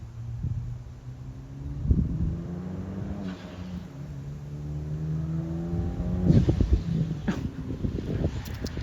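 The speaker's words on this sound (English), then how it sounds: "The turbo sounds fucking crazy." Turbocharged engine of a swapped Hyundai Genesis Coupe revving and pulling through gears, loud rising and falling harmonic drone with wind buffeting and a turbo whoosh, heard from inside the car.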